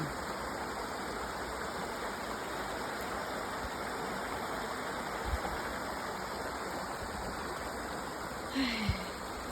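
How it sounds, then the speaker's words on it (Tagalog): Steady rushing of flowing stream water, broad and continuous, with a couple of brief soft knocks near the end. "pakikinggan ang agos ng tubig"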